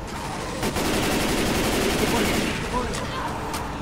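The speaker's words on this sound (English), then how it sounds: "explosive rounds do a lot of work" Sustained rattling gunfire with explosive rounds in Left 4 Dead, a continuous dense volley of overlapping shots and crackling impacts, fairly loud, with people talking over it.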